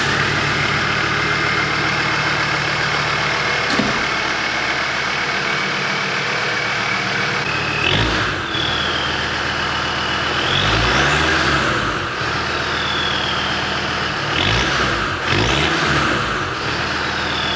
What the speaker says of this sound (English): I'm just gonna get a clip real quick of a cold start, and we'll see what the exhaust sounds like